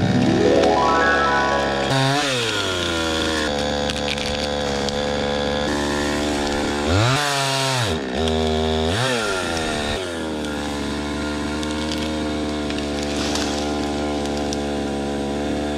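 A chainsaw cuts a tree on a bike park trail. The engine is loud and close, rising and falling in pitch as it revs and bogs through the wood for the whole stretch.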